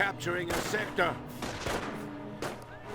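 Machine gun fire from an MG40 in the Company of Heroes game sounds as repeated rapid bursts with loud explosive shots, heard close and dense, mixed with a voice or other battle noise.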